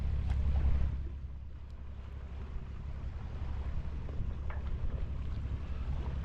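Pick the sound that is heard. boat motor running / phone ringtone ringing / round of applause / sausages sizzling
boat motor running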